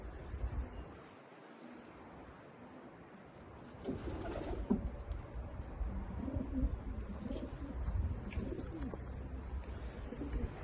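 Racing pigeons coo softly in a loft, a few low murmuring calls rising and falling at moderate distance against quiet background noise, with no talking.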